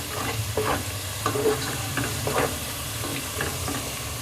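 Chopped garlic and ginger fry in a pan while cabbage sabzi is being cooked. A steady, close sizzle runs throughout, with the scrape of a spoon stirring at an uneven rhythm.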